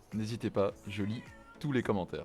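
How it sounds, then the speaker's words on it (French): A cat meows a few times, short clear mews close by, overlapping with someone talking in French. "ça c'était le chat, il vous salue aussi"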